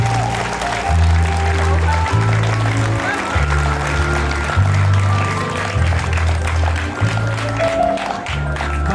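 Sustained applause at a school last-bell ceremony in Poti, a steady crowd clapping that fills the room at a constant level with a low rhythmic thumping underneath.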